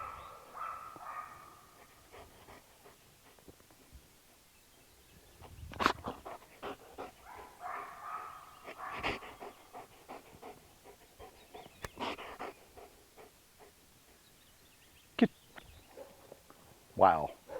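German Shepherd dog panting in quick, rhythmic breaths, faint and close, beneath a voice praising the dog, with occasional soft knocks and movement.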